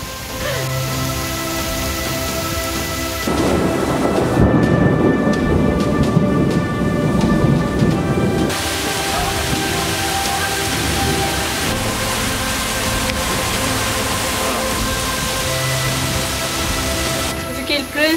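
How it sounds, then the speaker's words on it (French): A thunderstorm in a Zanzibar forest in late March, with heavy rain pouring steadily and low thunder rumbling in the distance, the downpour loud and continuous from start to finish. "il y a grosse pluie qui est arrivée. D'ailleurs, on entend les orages au loin."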